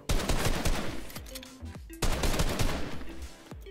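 Rapid repeated shotgun blasts in the Fortnite video game, loud dense bursts of gunfire in two long runs with a short break between, close and dominating, no voices.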